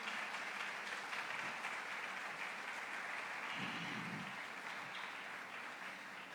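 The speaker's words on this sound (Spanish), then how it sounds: "Denle un aplauso a aquel que lo..." A church congregation applauds together, a fairly quiet, continuous spread of clapping heard at a distance. A brief low rumble surfaces partway through.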